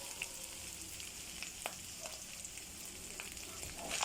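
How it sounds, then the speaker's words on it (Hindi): Minced keema frying on medium flame, its grains separated and dry, giving a steady soft sizzle with occasional light scrapes and pops close by, no voices. "तो इस तरह से मीडियम आंच के ऊपर में आप भुनें"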